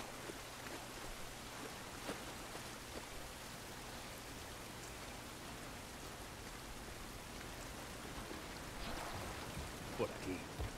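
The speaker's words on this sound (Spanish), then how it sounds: "Esta lluvia no nos va a ayudar." Steady rain falls outdoors in The Last of Us Part I, a constant soft hiss of drops on surfaces with a low hum underneath and a few faint taps near the end.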